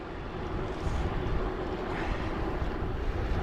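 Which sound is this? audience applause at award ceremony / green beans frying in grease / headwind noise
headwind noise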